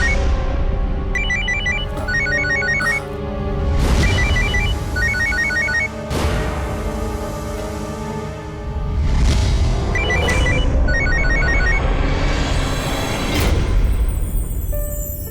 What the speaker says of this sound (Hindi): सावित्री फोन क्यों नहीं उठा रही?